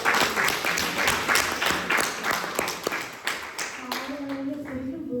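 An audience at a 2024 campaign function for Kenyan Americans claps loudly and steadily, fading toward the end as a voice begins speaking over the last claps.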